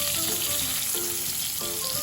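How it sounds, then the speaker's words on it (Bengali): Koi fish fry in hot oil, a dense, steady sizzle filling the whole moment with faint tonal clinks or voice traces underneath, no clear speech. "কই মাছ কিন্তু তেলে দেওয়ার পরেই একটু গুটিয়ে যেতে চায়, সেই জন্য একটু তাড়াতাড়ি মাছটাকে উল্টে দিতে হয়।"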